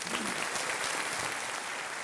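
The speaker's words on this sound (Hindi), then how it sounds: "तालियों के साथ इनका स्वागत" Dense, continuous studio audience applause fills a quiz show set on Kaun Banega Crorepati, greeting a contestant's wife with a loud, unbroken wash of clapping throughout.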